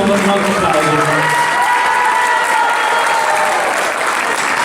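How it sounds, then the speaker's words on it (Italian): An audience applauds at a solo concert in a restaurant, steady dense clapping that fills the room for nearly five seconds, with faint cheering and a trace of a held vocal or instrumental tone at the start. "fatelo sentire un altro applauso"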